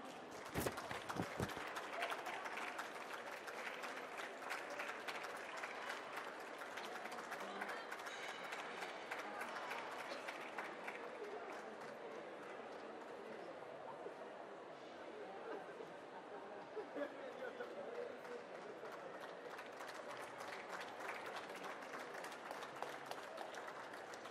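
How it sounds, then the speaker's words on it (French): An audience applauds at an Olympiades des Métiers skills competition event, a long steady wash of dense clapping with crowd chatter mixed in, fairly even throughout. "Merci de leur faire un tonnerre d'applaudissements."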